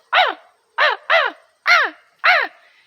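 A crow gives five harsh, descending calls, one pair close together, with a nasal, whining tone like a sick cat rather than the usual caw; loud, near and alone against silence.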